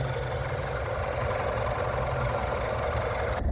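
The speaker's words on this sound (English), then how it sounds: "Okay, shot of the motor running." A 2019 Nissan Altima engine runs nearby, a steady unbroken mechanical drone with a dense rattling texture.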